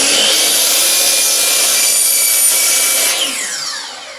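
Redwood boards being cut to length with a saw, a steady loud rasping cut lasting several seconds that trails off and slows toward the end, with no talking.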